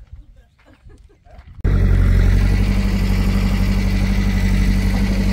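A tractor engine idles and runs steadily while manure is being loaded, starting abruptly after a quieter moment and holding a loud, even low rumble to the end.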